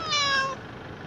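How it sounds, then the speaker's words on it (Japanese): A single drawn-out cat meow, loud and close, with a bright harmonic tone that fades after about half a second into quiet room noise. "ニャーニャーしてて"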